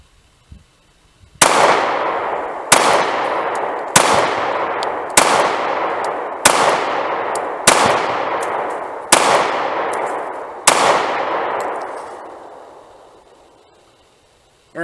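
Eight sharp, loud shots from a Springfield XDS 9mm compact pistol at a shooting range, fired one by one at a slow, steady pace, each crack ringing out and decaying before the next.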